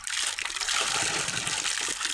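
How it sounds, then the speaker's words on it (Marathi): Water pouring into a fish tank, a continuous close splashing trickle that stays steady throughout the short clip. "आपण ओतलेली आहे पाण्यात"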